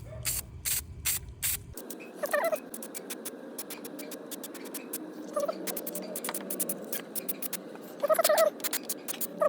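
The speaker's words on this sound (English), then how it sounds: "then you have to spray it here" NOCO battery protector is sprayed onto car battery terminals in short hissing bursts with rapid clicking pauses, followed by a longer low spray and more intermittent puffs close by.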